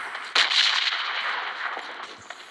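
Gunfire in the video game PUBG Mobile comes as a dense, steady burst of shots. There is no speech under it.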